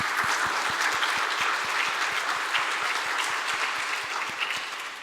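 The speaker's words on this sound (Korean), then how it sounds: "우리 먼저 하나님 앞에 감사의 박수 드리겠습니다." Sustained applause from a church congregation giving thanks during a service, dense and steady across the whole stretch with a faint rhythmic low thump underneath, no talking.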